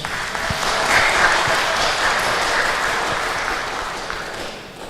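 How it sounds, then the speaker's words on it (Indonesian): Steady applause from participants at a church hymn-singing seminar, a broad wash of clapping that swells early and then slowly tapers off. "Kita berikan tepuk tangan untuk Kak Junita Siregar."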